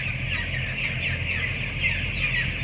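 Chickens cluck steadily inside a curtained poultry shed, a dense, continuous flock chatter with an even level throughout and no talking.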